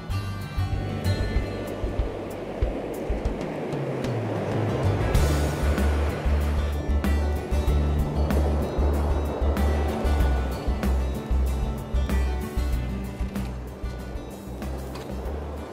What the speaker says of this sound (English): first thing you do when you get to a surf beach is you have a look at the waves